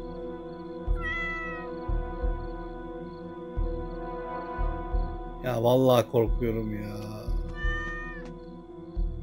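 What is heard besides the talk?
cat meowing in video game DreadOut 2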